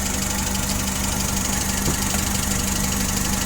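Nissan NL01A15D 1.5-ton forklift with a fuel-injected four-cylinder engine running, a steady loud close-up drone with even mechanical knocking and vibration throughout.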